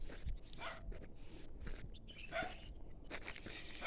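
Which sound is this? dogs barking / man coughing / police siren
dogs barking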